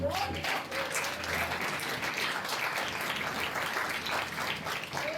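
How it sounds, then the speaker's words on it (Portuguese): A church congregation at a Sunday service applauds in a sustained, even wash of clapping from many people, steady for several seconds, with voices mixed faintly into the crowd. "Você pode aplaudir o Senhor por isso?"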